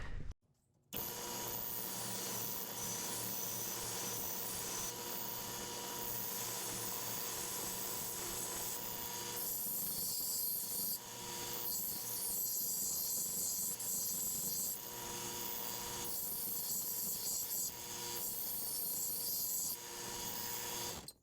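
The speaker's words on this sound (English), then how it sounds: "Put a little of a bevel edge on there so whenever we weld it's a little deeper" Metal being filed to a bevel edge ahead of welding during a hydraulic handbrake install on an NA Miata: a continuous coarse rasping and scraping, close and steady, with brief pauses and no speech.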